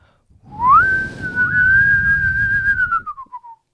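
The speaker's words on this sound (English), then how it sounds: "Can you whistle? Can you get this whistle, sweetie?" A single sustained whistle, rising at first and then holding a steady high note with slight wavers before trailing off, close and clear.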